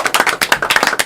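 A small group claps in a radio studio after a live band interview, a quick, close burst of dense, uneven handclaps lasting about a second.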